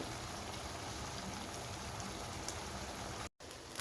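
Punti fish frying in hot white oil in a frying pan, a steady close sizzle and crackle throughout with a brief cut near the end.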